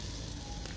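Olive oil poured over chicken on a barbecue grill, with a steady, close sizzle and crackle of frying that holds evenly throughout, with no voices.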